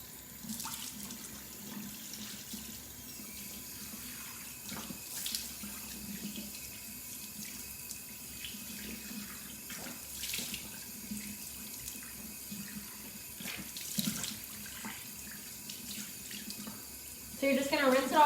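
Warm water runs from a tap into a sink while a face is rinsed, a steady soft hiss with brief splashing and shifting flow, getting louder near the end.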